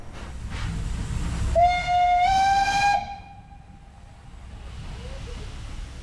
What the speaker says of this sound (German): um zu erkennen, ob sich der schwere Zug bereits in Bewegung gesetzt hat